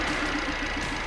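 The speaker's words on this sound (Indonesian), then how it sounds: "kelihatan terdengar ya, terdengar idle makin besar ya" A Nissan Livina engine idles during an ignition coil test, a short steady mid-pitched running sound with slight uneven pulsing, close and alone.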